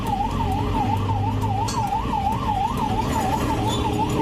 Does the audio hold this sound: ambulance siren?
yes